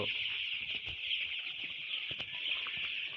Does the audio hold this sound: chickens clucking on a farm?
yes